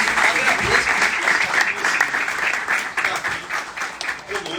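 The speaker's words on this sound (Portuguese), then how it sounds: "uma salva de palmas a todos vocês" An audience bursts into sustained applause at a political gathering of leaders in Bahia, a dense, loud, continuous wash of clapping that fills the room without a break.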